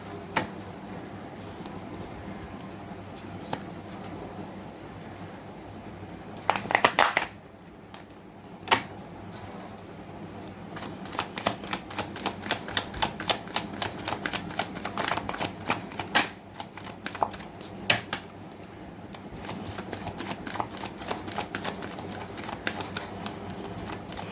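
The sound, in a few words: shuffling a deck of tarot cards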